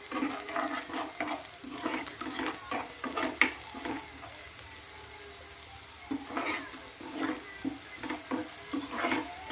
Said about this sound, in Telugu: ఇవంతా మంచిగా ఫ్రై అవ్వాలి.